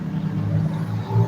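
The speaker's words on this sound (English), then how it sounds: "somebody riding a loud ass motorcycle." A loud motorcycle rumbles past nearby, a steady low engine drone that swells slightly toward the end of the short stretch.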